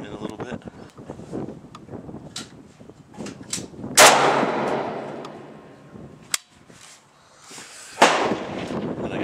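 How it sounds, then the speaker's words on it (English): An old AK-74 rifle firing at a 500-yard target outdoors: two loud, sharp gunshots about four seconds apart with echoing decay, someone talking between them. "So we're gonna keep shooting this old 74."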